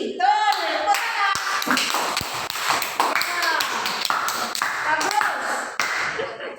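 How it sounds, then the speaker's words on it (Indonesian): A classroom group claps hands during a creative-economy quiz, with a student voice at the start and uneven bursts of close clapping interleaved with chatter and tapping. "Tuh, tepuk tangan."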